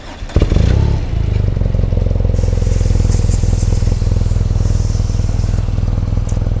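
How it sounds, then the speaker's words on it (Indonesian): A 2019 BMW R nineT with a 1200cc boxer twin, low mileage and stock, cranks with a short whirring starter and catches, then settles into a loud, even, rapidly pulsing idle close by. "Okay, mari kita cuba start tengok motor ni."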